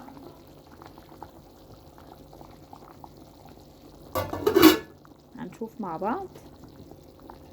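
Broth pours over peas in a cooking pot in a short, splashy burst midway, set against a low steady hum, with someone talking softly before and after.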